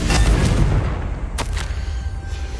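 A Confringo explosion spell in the Hogwarts Legacy video game, a heavy booming blast with a rumbling tail, then a sharp second crack and fading debris.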